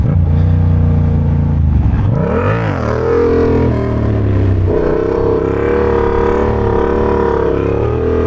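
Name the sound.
motorcycle engine revving during wheelie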